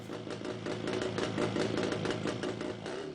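An early-1960s Francis Barnett Sports Cruiser, a small-capacity British twin motorcycle, runs with a steady, continuous engine beat at moderate loudness, close by and alone without any voices.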